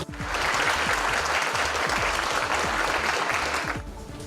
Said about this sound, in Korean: 지금 좀 일어나셔서 한번 박수를 쳐드렸으면 좋겠습니다.